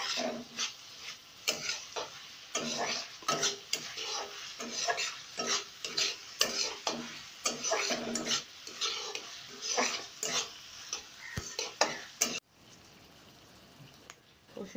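Garlic fries in a hot pan while a spoon stirs it briskly, rhythmic scraping clacks over a steady sizzle, close and fairly loud, stopping abruptly near the end.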